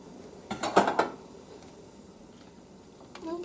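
Metal grill tongs clink and scrape a few times over about half a second while turning onions on a grill, then a long quiet stretch with faint background noise follows.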